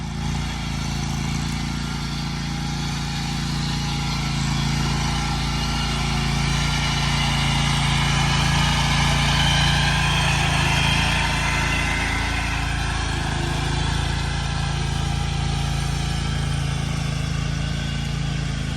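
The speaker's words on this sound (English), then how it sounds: "So we mow as much, we aerate as much as this hill as we can." A lawn aerator with a small engine runs steadily on a hillside lawn, a continuous loud mid-pitched drone that rises and falls slightly in intensity without any pauses.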